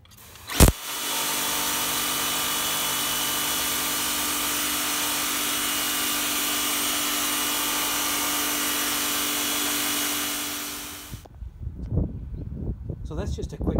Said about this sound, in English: Here's the green tip on the higher mode.